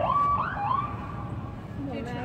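Ambulance siren approaching in a tense emergency scene, a loud wailing tone that sweeps up and down and then changes pattern, heard alongside some faint background voices.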